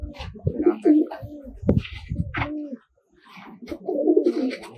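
Tumbler pigeons coo in a loft, with several rounded, throaty coos rising and falling in short bursts, close and fairly loud, broken by a brief quiet gap.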